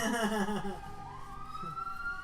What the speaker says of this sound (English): Boy, those sound like modern fire trucks.